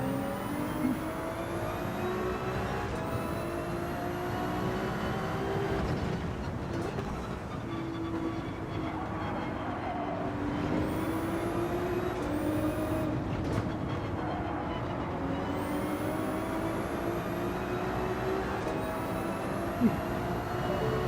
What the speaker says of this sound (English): The tire scrub is very loud.